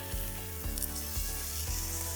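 Ribeye steaks sizzle over a wood fire after being flipped, a soft steady hiss with small pops and crackles recurring in a gentle rhythm, close and fairly quiet.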